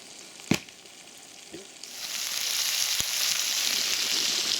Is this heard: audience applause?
no